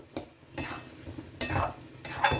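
A spoon stirs lentils and water spinach in a pot after sugar goes in, giving four separate scraping, clinking strokes against the metal at a steady, unhurried pace, close by.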